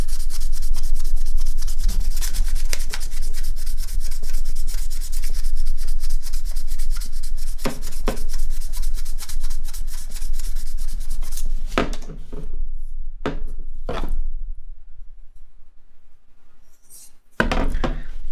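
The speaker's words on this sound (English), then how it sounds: "Gonna go after it with a little bit of some 600 grit this way." Steady, loud back-and-forth rubbing of 600 grit sandpaper, heard up close for over ten seconds before breaking into a few slower separate strokes and a brief pause.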